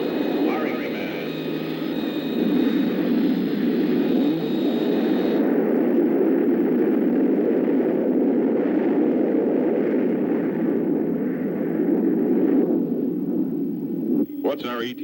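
Cartoon spacecraft engine firing, a loud, sustained roaring rumble that holds steady for several seconds before cutting off abruptly.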